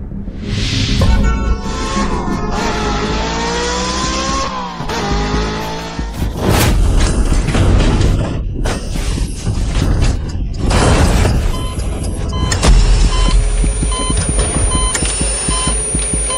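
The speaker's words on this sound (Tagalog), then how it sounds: "Nagkaroon ka ng aksidente sa sasakyan." A car accident in a dramatic scene unfolds with a loud engine and screeching, skidding tires, then a series of heavy crashing and shattering impacts, followed by ringing tones and lingering noise.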